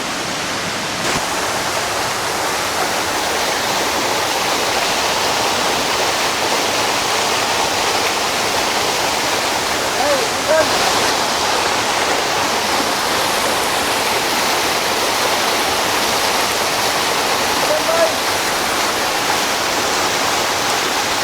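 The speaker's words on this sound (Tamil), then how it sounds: "அந்த பாருங்க, வாட்டர் ஃபால்ஸ் செம்மதியாக இருக்குது." Steady, broadband rush of water pouring down a waterfall at Anakulam in Kerala, heard up close as a continuous, even roar that holds the whole time with no voices over it.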